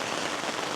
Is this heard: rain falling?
yes